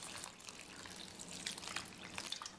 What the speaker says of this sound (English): we're going to cover it with water